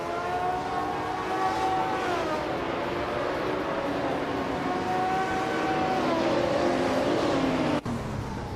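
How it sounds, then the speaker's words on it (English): A 1977 Porsche 936 race car in a racing video game, its engine droning loud and steady with the pitch sliding up and down through gear changes, with no voices. "Lord Botriel is driving a Porsche 936 from 1977."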